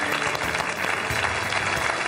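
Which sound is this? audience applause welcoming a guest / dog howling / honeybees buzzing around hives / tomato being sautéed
audience applause welcoming a guest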